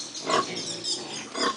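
Pigs grunting and oinking at a pig farm, two short nasal grunts close by with a softer snuffle between them.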